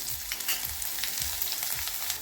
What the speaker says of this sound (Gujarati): કાંદા બ્રાઉન કલરના થઈ જાય ત્યાં સુધી તેને તળવા દેવાના છે